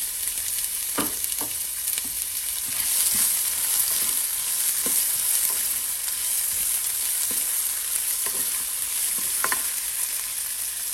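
Chopped onions frying in a pan for bitter gourd fry, a loud steady sizzle up close broken by repeated scraping clicks of a spatula as they are stirred.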